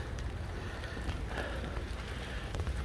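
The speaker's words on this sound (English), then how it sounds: "Well, it's raining." Steady rain falls outside a 2011 Ford Crown Victoria, an ex-police car, producing a constant soft patter with occasional louder drops throughout.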